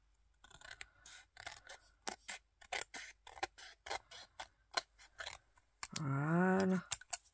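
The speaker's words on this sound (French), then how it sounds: "On va pouvoir venir couper" Close, crisp scissor snips cut excess paper from a Christmas collage card in a steady run of short cuts, followed by a brief voiced sound near the end.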